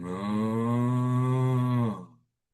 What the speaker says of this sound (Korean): 평온했던 정겨운 고향의 소 울음소리처럼.